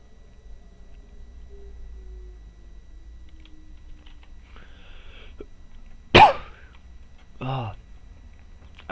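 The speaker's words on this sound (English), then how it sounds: "I do apologize for all my coughing," Two short, sharp coughs a second or so apart, close to the microphone during a gaming session, over faint background hum and light keyboard-like ticks.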